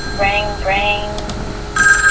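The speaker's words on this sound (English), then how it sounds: "Yet the ringing noise refused to cease." Telephone ringing in the Tokyo Babel video game: repeated electronic ring bursts recur through the short span over soft background game ambience, with no one speaking.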